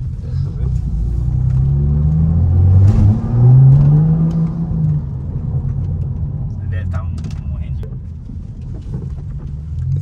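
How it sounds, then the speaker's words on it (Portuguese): A car engine rumbles and revs loudly up close during a street race, the deep drone rising and falling while people talk over it. "O mais gostoso desse carro aqui é o barulho"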